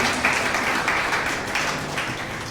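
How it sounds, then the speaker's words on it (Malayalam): Audience at a Christian prayer retreat in Bangalore clapping together, a steady wash of applause lasting a few seconds at moderate loudness, no one speaking over it. "കൈയടിച്ച് കർത്താവിന് നന്ദി പറയാം"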